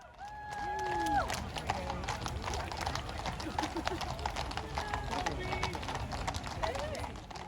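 Open horse-drawn carriages roll along the Mall during the Trooping the Colour birthday parade, hooves clip-clopping steadily at close range beneath a constant crowd murmur and occasional voices.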